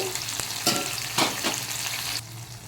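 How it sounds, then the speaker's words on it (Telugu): Malabar spinach greens fry and sizzle in a pan while being stirred, with scraping strokes over a constant crackle, close and moderately loud, with no talking. "ఇవి కొంచెం మనం ఇలాగా ఫ్రై చేసుకోవాలి"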